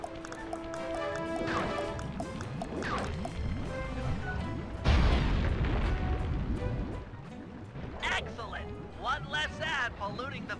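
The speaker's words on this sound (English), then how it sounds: "Place the dynamite when you get near the anchor, or kaboom!" Dynamite blast in the video game Sea of Thieves: a sudden heavy boom mid-clip with rumbling wash, amid game music, clattering footsteps and a voice talking.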